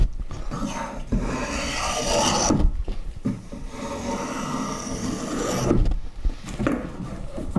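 Wood being sanded for a shave horse build, a close, steady rasping scrape with short pauses between strokes.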